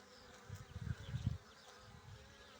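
Worker honeybees flying back to the hive carrying pollen and nectar in March, a low steady buzzing that swells and fades in pulses as bees pass close by, with no talking.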